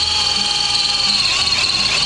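A power drill bores steadily, its high whine holding a constant pitch close by, with a brief dip and wobble near the end as the bit loads up.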